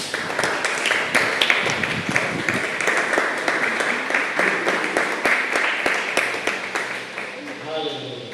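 A church congregation applauds, with dense, sustained clapping from many hands at a steady, lively pace for several seconds, while voices carry on underneath.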